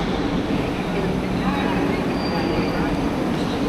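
A double decker train in the Netherlands gives a steady, loud, rumbling roar of rolling stock, constant throughout and heard close by.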